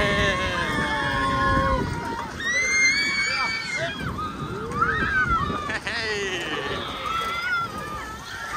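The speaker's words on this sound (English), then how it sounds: "People are properly screaming behind us." Riders scream loudly on a fast roller coaster at Flamingo Land, with overlapping high wavering shrieks, rushing wind and track rumble throughout, near and continuous.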